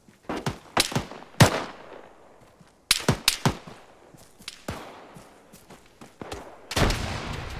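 Machine gun fire in Arma 3, with irregular bursts and single sharp cracks spread over several seconds, some loud and near, others fainter with echoing tails.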